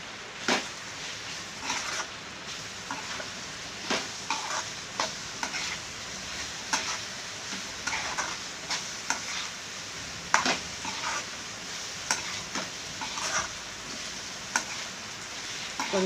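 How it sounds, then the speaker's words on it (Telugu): Chicken masala sizzles in oil in a pan for a restaurant-style chicken curry while a spoon stirs it, giving a soft steady frying hiss punctuated by repeated scraping and tapping strokes, close and without talk. "కొంచెం ఒక 2 నిమిషాలు ఈ మసాలాలన్నీ వేగేదాకా"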